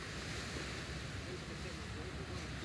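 Ocean waves at a beach in Padang, Indonesia, as a steady broadband roar of surf with wind buffeting the microphone, continuous and fairly loud, with no distinct speech.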